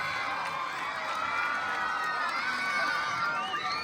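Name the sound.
pageant audience applauding and cheering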